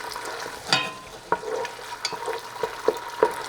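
Green chilies sauté in hot oil with a soft, steady sizzle, broken by several sharp stirring clinks and scrapes against the pan at irregular intervals.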